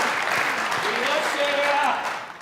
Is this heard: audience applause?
yes